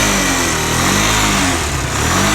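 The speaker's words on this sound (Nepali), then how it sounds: "अनि सेल्फ हान्दिउँ अब रेस हल्का दिउँ" A motorcycle engine, started with the electric starter and choke, runs loud and close with a rough, throbbing idle and light revving, steady throughout with no voices over it.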